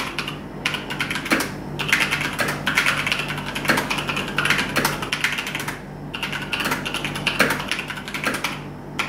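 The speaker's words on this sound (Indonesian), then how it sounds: "Untuk tingkat kebisingannya dari keyboard ini, kalian bisa dengerin video berikut ini." Steady, brisk typing on a Logitech G413 SE TKL mechanical keyboard, with dense clacking keystrokes close up and occasional short pauses, no voices.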